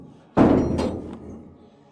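A single loud door bang lands sharply and then fades into a short decay inside a room during a ghost-hunting show, with no talk over it.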